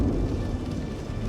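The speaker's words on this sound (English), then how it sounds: "Rain sounds on the ship hitting the window" Rain pelts a spaceship window in the video game Star Citizen, a dense steady patter with a deep low rumble like thunder underneath, continuous and fairly close, with no speech.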